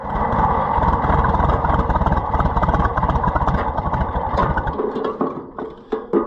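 An Oliver 70 tractor engine with a broken governor spring runs hard under added throttle, a loud, steady, fast-pulsing roar that holds for several seconds, then drops and stumbles into uneven, sputtering beats near the end.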